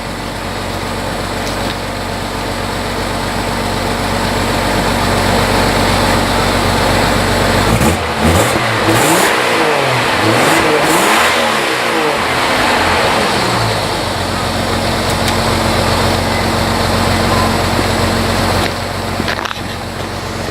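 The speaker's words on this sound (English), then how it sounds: "Everybody likes to see a good rev." A car engine with its exhaust, idling steadily, then revving up and down in a few swells before settling back to a steady idle, loud and close.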